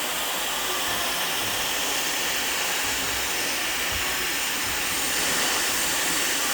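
A handheld hair dryer blows steadily and loudly while a brush works through hair during an at-home blowout, a continuous broadband whoosh that swells slightly near the end, with no talking.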